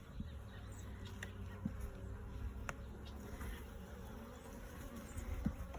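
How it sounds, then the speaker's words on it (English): Honeybees buzz steadily around an open beehive during an outdoor hive inspection, a low continuous hum with individual bees droning close by and occasional soft knocks and rustles over quiet ambient background. "See that bee right there? Tried to sting me."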